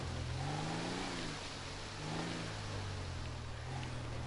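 A car engine in GTA 5 hums and revs steadily as the car drives into deep water, with low muffled rumbling and no talking.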